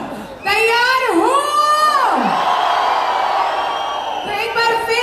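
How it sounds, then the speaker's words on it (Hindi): A large crowd at an AWPL Vijay Rath rally in Arunachal Pradesh roars and whoops loudly, a sustained close wall of cheering with high voices sweeping up and down, briefly easing before surging again. "तो एक बार फिर से इसी दहाड़ के साथ, तालियों की गूंज के साथ"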